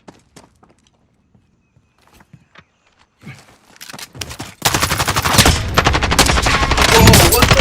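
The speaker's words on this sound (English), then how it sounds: "I'm taking fire!" Gunfire in the Call of Duty Modern Warfare video game: sparse thuds and scattered shots build into loud, sustained rapid automatic fire that continues to the end.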